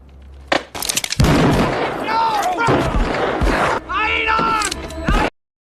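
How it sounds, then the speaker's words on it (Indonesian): A film gunfight with several sharp gunshots cracking out early, then bursts of loud, harsh shots and impacts over the following seconds, mixed with shouting voices and dramatic sound, cutting off abruptly into silence. "Tak lama kemudian, baku tembak pun meledak."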